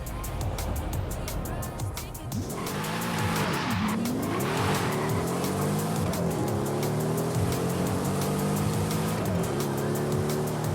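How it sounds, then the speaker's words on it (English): A V12 Mercedes in the racing game Forza Horizon 5 drives under sustained engine power. Its drone swoops up and down in pitch as it revs and shifts, and squealing tires briefly cut in near the start. "Rather subdued engine note. Or exhaust note, I should say."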